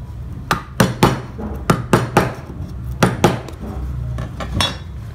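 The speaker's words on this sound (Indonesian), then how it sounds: "Kemudian kita kembalikan lagi menggunakan pahat kol yang besar." Hammer blows strike a large gouge chisel carving wood, a series of sharp, close knocks, some in quick pairs, with short pauses between.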